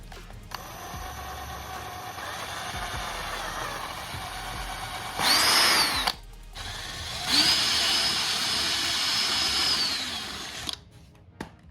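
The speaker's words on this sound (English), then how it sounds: "I'm gonna go ahead and drill this out" A power drill bores out a 15mm offset hex adapter for 12mm to 17mm hex wheels, a steady high whine with two louder bursts where the bit bites, starting and stopping several times, close and loud, with no talking.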